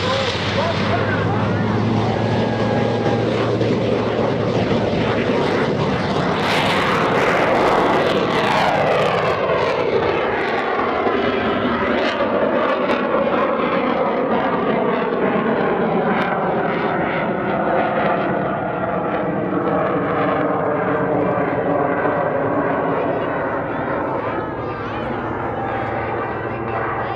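A one-of-a-kind propeller aircraft roars through its takeoff roll at an Air National Guard open house airshow, loud continuous engine drone with shifting pitch and wind buffeting, heard from nearby throughout.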